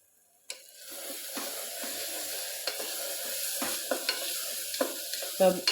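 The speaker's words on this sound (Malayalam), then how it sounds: "ഇത്രയും സവോള നല്ലപോലെ ഒന്ന് വഴന്നു വരട്ടെ" Sliced onions sautéing in a pan make a steady close sizzle, broken by repeated spatula scrapes and taps as they are stirred, with no talking.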